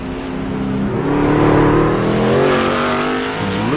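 A race car pulling away from its pit stall after a fuel-only stop: the engine revs up loudly and climbs through the gears, rising and falling as it accelerates away, close and continuous with no voices.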